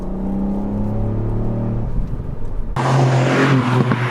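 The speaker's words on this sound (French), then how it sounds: "J'aurais jamais pensé qu'un 3 cylindres puisse faire autant de bruit" A Ford Fiesta ST MK8 with its three-cylinder engine revs loudly, the note holding steady then jumping sharply to a higher, harsher pitch as it climbs, with no talking over it.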